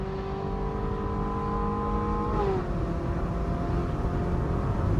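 A Ferrari 458 Spider's engine revs hard while driving on the street, a loud sustained howl with a pitch that climbs and then drops sharply at a gear change midway, continuous and close with no talking.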